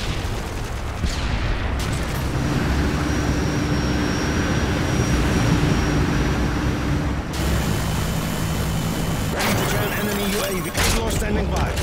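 A Hind attack helicopter arrives during a Call of Duty Modern Warfare 2 multiplayer Domination match: a steady, loud roar of rotor and engine noise runs throughout, with gunfire and other battle effects mixed in.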